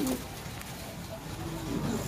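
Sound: King pigeons cooing

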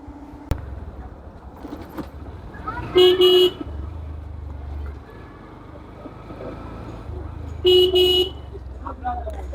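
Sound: vehicle horn honking

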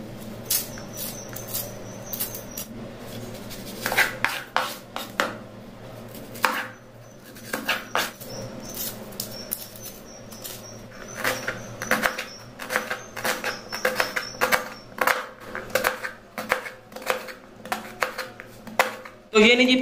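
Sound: chopping onions with a knife

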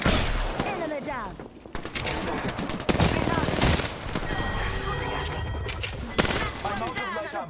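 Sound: gunfire in video game Apex Legends

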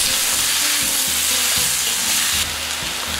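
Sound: beef sautéing in sauce on a hot plate, being stirred

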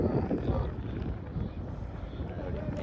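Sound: strong wind

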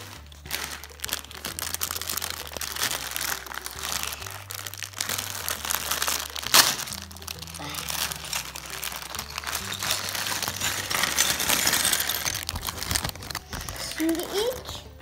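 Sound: plastic Lego packaging being opened and crinkled

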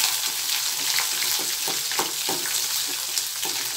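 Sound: curry leaves and chillies frying in oil

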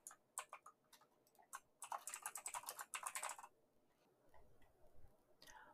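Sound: typing a web address on a computer keyboard

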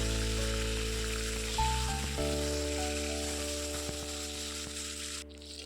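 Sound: frying eggplant strips with salt and turmeric

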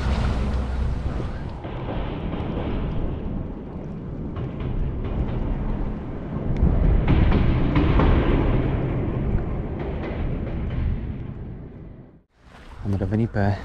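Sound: strong wind blowing on the Danube riverbank

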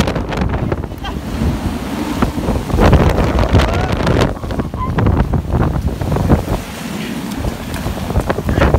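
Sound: typhoon wind hitting Ishigaki

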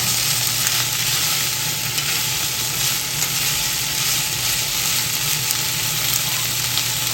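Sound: fried tofu and warabi fern frying in pan

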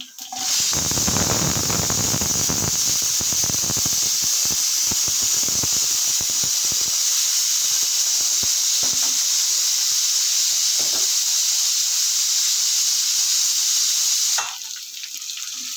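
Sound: pressure cooker whistle while cooking

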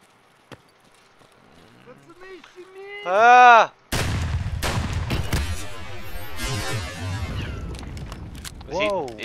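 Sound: grenade explosion in video game Escape from Tarkov

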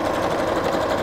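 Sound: sewing machine stitching fabric edges

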